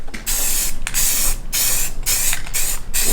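A spray can applies primer to a part for a bosozoku scooter build in loud, close hissing bursts, about six in quick succession with short gaps between them.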